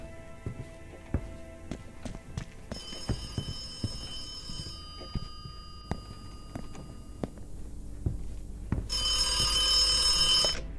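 A public payphone rings in the video game The Occupation, sounding in two bursts of high ringing amid a steady run of footsteps and small knocks.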